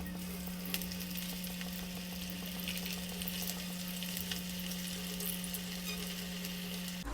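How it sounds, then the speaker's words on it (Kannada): Potato pieces fry in a pan of hot oil, giving a steady, close bubbling sizzle that holds without break under a constant low hum, with no talk. "ಎಣ್ಣೆ ಕಾದಿದೆ. ಸೊ ನಾನು ಇವಾಗ ಒಂದೊಂದು ಬಿಟ್ಕೋತ ಹೋಗ್ತೀನಿ"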